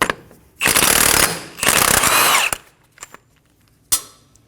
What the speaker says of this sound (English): Using a 30mm socket, remove the axle nut.